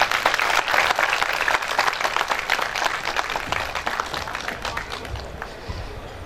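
Sustained, dense applause from a mushaira poetry gathering audience, steady and loud throughout before tapering slightly near the end.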